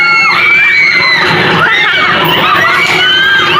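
Loud, sustained screaming and shrieking from a crowd of riders, overlapping high voices rising and falling continuously.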